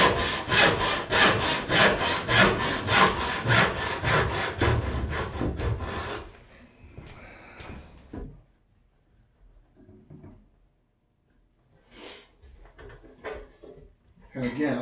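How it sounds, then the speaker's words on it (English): A hand saw cuts a timber joint in rapid, even back-and-forth strokes, close and loud for about six seconds, then stops, leaving faint scattered knocks and handling sounds. "Let the saw fall straight down."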